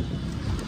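Wind gusts steadily across the microphone outdoors near a beach in Da Nang, Vietnam, making a constant low, rumbling buffet with no voices.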